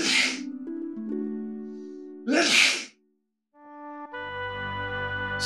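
Two loud, close sneezes burst out a couple of seconds apart over steady video game background music.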